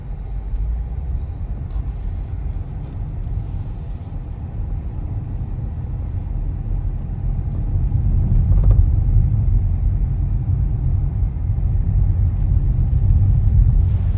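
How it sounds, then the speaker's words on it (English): A cement truck grinding through narrow streets and hairpin turns on St. John, a loud close low rumble of heavy diesel engine that swells as it labors, with no talking. "we were captivated watching the cement truck navigate the narrow streets and hairpin turns"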